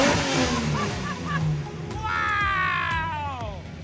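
A Datsun 240Z fitted with a new engine runs loud and close, its low rumble swelling into a rising rev about halfway through, with people talking over it.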